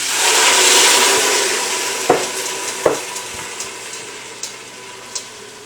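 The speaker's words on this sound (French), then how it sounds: "On va ajouter du bouillon" Broth pours into a hot pan of frying garlic, giving a loud rushing sizzle that fades into softer bubbling with a few clinks of a spoon stirring, all without any talking.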